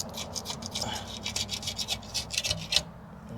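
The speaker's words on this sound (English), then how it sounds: "Let me scrape some of this off here. Just using a razor blade." Razor blade scraping excess material off a terrarium, a close, steady run of short raspy strokes with a brief sharper scrape near the end, under a low background hum.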